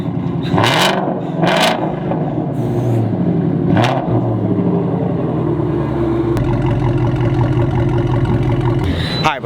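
A Shelby GT350 runs with its exhaust valves open, giving a loud, steady, close engine rumble. Sharp bursts and a few quick revs rise over it.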